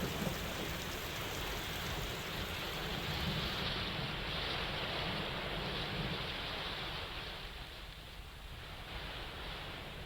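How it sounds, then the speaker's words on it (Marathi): Heavy monsoon downpour in Nashik during the Godavari floods, a dense and constant roar of rain that stays loud and unbroken from start to finish, easing a little toward the end, with no voices. "नाशिकमध्ये प्रचंड मुसळधार पाऊस सुरू आहे"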